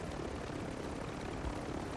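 A helicopter in the video game Warzone 2 drones with a steady, loud rotor and engine roar that continues unbroken for about two seconds, with no talking over it.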